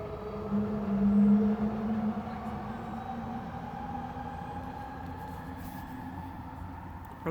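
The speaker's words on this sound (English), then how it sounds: "Probably a good thing those trains don't have drivers" A train rolls steadily past with a deep rumble and a sustained metallic whine, fairly quiet and unbroken throughout.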